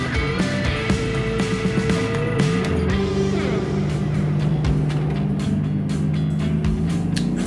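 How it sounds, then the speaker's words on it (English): A race car runs at speed on a NASA racing track, braking from about 110 mph to 85 mph into turn 1. Its engine gives a loud, continuous, close-up tone that drops in pitch partway through. "Hitting 110 miles an hour before applying the brakes to take her down to 85 miles an hour into turn 1."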